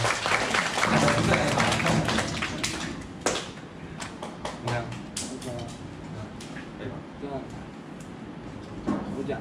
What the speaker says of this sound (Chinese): 那我们再一次掌声一下，谢谢我们那个吴俊尧的国手。